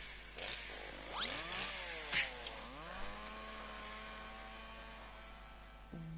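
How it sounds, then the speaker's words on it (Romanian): A video game chainsaw, used in a game about wrecking a computer, revs quietly with a buzzing motor whose pitch swoops up and down several times before settling into a steady drone. "Mi se pare mie sau e drujbă?"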